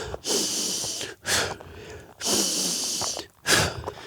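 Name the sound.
deep heavy breathing while hiking uphill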